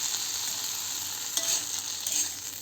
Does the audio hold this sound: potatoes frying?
yes